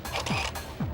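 A digital camera with a built-in computer gives a brief burst of mechanical whirring and clicking as it records directly, close up and short, with no speech.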